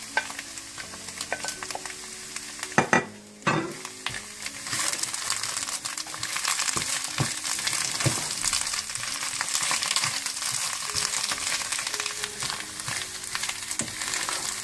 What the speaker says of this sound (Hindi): पालक को भी अच्छी तरह से भूनने के बाद आप इसमें हरी मिर्चें, कटी हुई अदरक और हरा धनिया ये भी मिक्स कर दें।